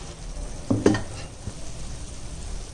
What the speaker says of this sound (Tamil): இதில் வந்து மஞ்சப்பொடி போடுறோம், தேவையான அளவு உப்பு, நல்லா கிளறி விடுறோம்